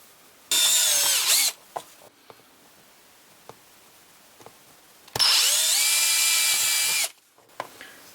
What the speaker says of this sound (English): and then we can drill them.